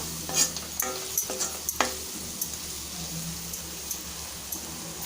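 Spicy masala noodles with vegetables being stirred and mixed in a hot pan, giving a soft steady sizzle broken by several sharp scraping clinks of the spoon, close up with no talk.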